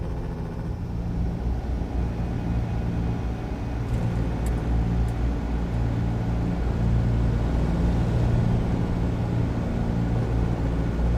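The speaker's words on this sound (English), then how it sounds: "Can hear Holland Savage truck." Holland Savage truck engine in American Truck Simulator, a steady low diesel drone with constant road rumble, loud and close, running alone without talk.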